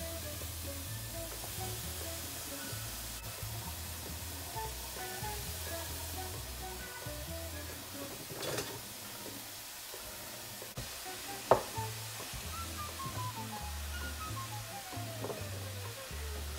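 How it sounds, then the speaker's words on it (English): Steady sizzling of ground beef frying in a hot skillet, a continuous close crackle with a low hum underneath and a sharp clink partway through. "You can hear it sizzle."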